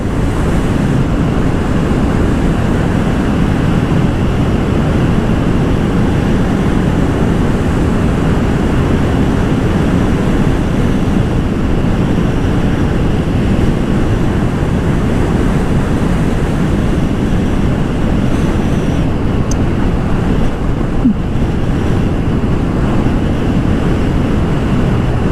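Steady, roaring wind buffets the microphone throughout, a loud continuous rush with no pauses and no voices.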